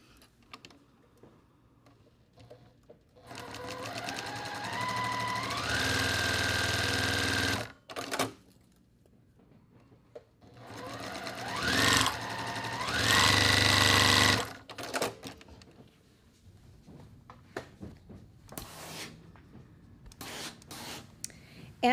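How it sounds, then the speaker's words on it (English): A sewing machine stitches along quilt block seams in two sustained runs of steady whirring, each several seconds long, with quieter pauses and handling noises between them. "So again, just sew on the seams,"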